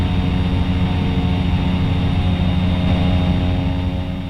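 A bush plane's propeller engine in the X-Plane 11 flight simulator drones steadily and loudly, a constant low roar with no voices.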